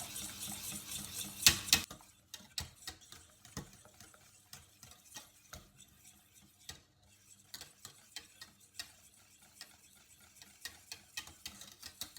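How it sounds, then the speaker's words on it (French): Light, irregular metallic taps and scrapes as a whisk works a thickening mixture being brought to a boil in a saucepan, close and fairly quiet, with no talking. "Et je porte de nouveau à ébullition en fouettant bien."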